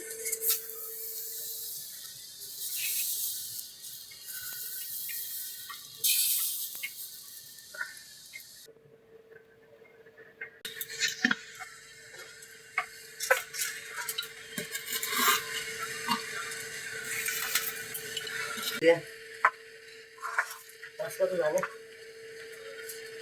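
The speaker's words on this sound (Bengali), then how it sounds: "খোলা গরম হয়ে গেছে, এবার গোলা দিয়ে দিলাম।" Rice-flour batter poured into a hot pan for pitha sizzles in a steady, fairly loud hiss that rises sharply midway, with scraping and clatter, while people talk nearby.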